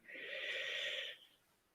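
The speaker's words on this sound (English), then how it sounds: "deep breathing," Soft, deep breath during a meditation session, a single smooth airy exhale lasting about a second before fading into quiet, close and gentle with no talking.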